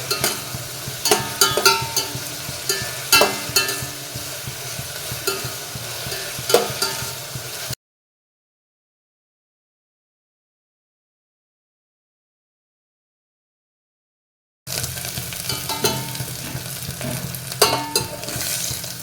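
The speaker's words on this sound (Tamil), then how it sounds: "அறுத்து வச்சுக்கிட்டு அதை போட்டு நல்லா டாஸ் பண்ணுங்க" Sliced ingredients sizzling and being tossed in a frying pan for restaurant-style tomato spaghetti, a close crackling fry with scraping stirs and clatters, broken by a silent gap midway.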